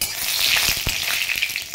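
Whole spices sizzle in hot oil for a khichuri tempering, with cumin, five-spice mix, dried bay leaves, cardamom and cinnamon hitting the pan. A steady close hiss runs throughout, broken by a few sharp pops and crackles, with no voices.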